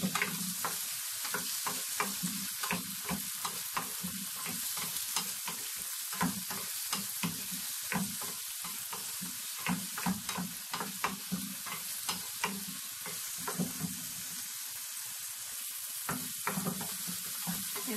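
Tomatoes sautéing in a hot pan for ginisang talong, a steady close sizzle broken by frequent sharp scrapes and clacks of a stirring utensil.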